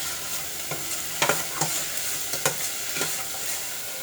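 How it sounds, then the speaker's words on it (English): One medium onion sautéing in oil in a stovetop pan, with a clear, close sizzle broken by repeated scraping strokes of a stirring utensil at an irregular rhythm. "So we can saute the onions"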